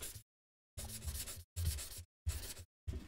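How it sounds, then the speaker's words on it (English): Sandpaper on a stick rubbed against a woodworking tool edge in short back-and-forth strokes, four or five scratchy passes separated by brief silences, close and fairly quiet, no voices. "use your stick like this to hit an edge. It may give you more control this way to run your sandpaper against your tool"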